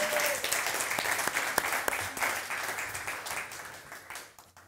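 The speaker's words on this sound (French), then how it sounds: "Est-ce qu'on peut leur donner vraiment une bonne main d'applaudissement" A congregation at a French-language church service gives a burst of applause, with dense sustained clapping that fades toward the end.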